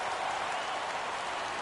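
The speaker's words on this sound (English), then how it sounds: "Crowd gets up for the 3-2." A stadium crowd in a PS4 baseball video game rises for a full count, giving a steady wash of cheering and applause that holds evenly throughout at moderate loudness.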